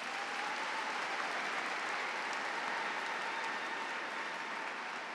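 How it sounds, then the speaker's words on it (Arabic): Congregation applauding during a Chaldean church Easter Mass, a steady, dense wash of clapping from many hands that holds evenly throughout with no speech. "صفقوا جميعاً."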